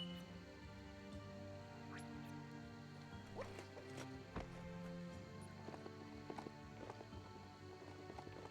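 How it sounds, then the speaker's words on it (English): Mechanical steampunk horse hooves in the Biomutant video game, soft clip-clop steps under game music and ambience, fairly faint and irregular. "I'm gonna ride my mechanical horse."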